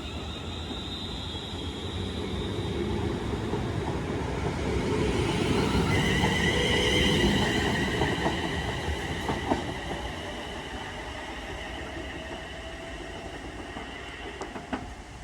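Electric multiple unit 350.408 bound for Crewe runs through Alsager station, a loud rolling rush that swells as it passes, with wheel squeal and rhythmic clatter over rail joints, then fades to a lingering rumble.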